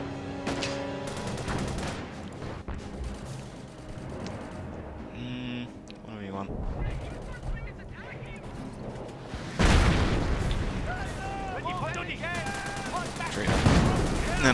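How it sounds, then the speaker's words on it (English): Artillery fire and explosions in a World War I mod of Company of Heroes, with bursts of gunfire and booms layered over game music and sound effects. A sharp loud blast near the ten-second mark, then more rumbling fire. "Disruptive barrage."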